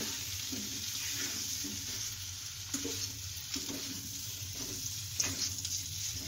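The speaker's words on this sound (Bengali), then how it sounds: "এবার পটল আলুটা দিয়ে দিচ্ছে। এবার ভালো করে নাড়াচাড়া করে নেবে।" Pointed gourd and potato pieces fry in a reddish spice paste, a soft continuous sizzle with occasional stirring clinks of a utensil against the pan, fairly quiet and close.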